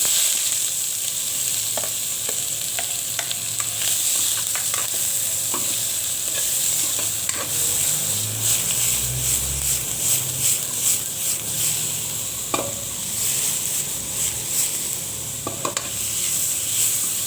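Onions frying in a pan for chicken binakol, a constant bright sizzle with repeated clicks and scrapes of a utensil stirring, a burst of quick stirring in the middle, close and moderately loud.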